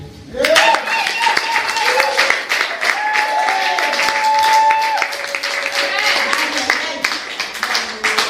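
Applause from a church congregation during a French-language sermon, lively clapping running throughout with voices shouting and singing over it, fairly loud and close.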